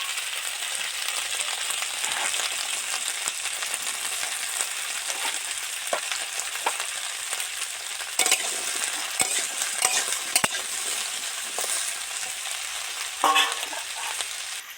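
Okra fries in oil for a Bengali katla fish curry with a loud, continuous close sizzle and crackle, broken by a few light clinks and scrapes of a utensil against the pan.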